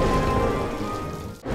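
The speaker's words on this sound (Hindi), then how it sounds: "ये बारिश" Steady rain in a Hindi TV drama scene, a dense continuous hiss that stays loud and even before dropping off sharply near the end, with no voices over it.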